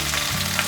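Zucchini and potatoes pan-frying, a steady close sizzle with a low hum underneath, brief and even.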